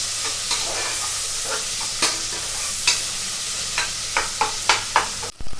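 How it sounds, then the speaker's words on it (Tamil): Onions with curry leaves sauté for a Tamil chicken kulambu, a constant close sizzle broken by spatula scrapes that quicken into a run of rapid strokes near the end; no one speaks. "வெங்காயம் கொஞ்சம் வதங்கணும். வதங்கினா தான் குழம்பு நல்லா டேஸ்ட்டாக இருக்கும்."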